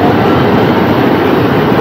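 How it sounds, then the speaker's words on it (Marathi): An Italian train near Bologna makes a loud, steady rumbling roar, close by and continuous, with no voices. "ही जी समोर लागलेली आहे ही ट्रेन आहे"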